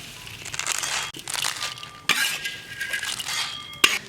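Shelled sunflower seed kernels tossed in a hot wok with a spatula give a steady dry rustling and crunching scrape, punctuated by a few sharper metallic clinks of the utensil against the pan, close up and moderately loud.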